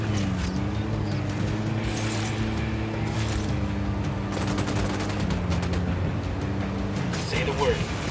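Gunfire in the Ghost Recon Wildlands video game: rapid bursts and shots crackle over a droning vehicle or engine hum, with loud rattling volleys toward the end.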